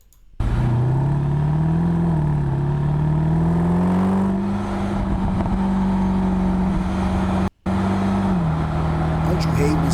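A Mercedes SLS AMG engine revs with a steady, deep rumble that rises and dips in pitch, cutting out briefly before resuming, loud and close.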